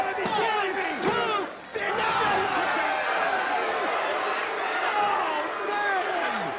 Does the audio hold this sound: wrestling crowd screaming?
yes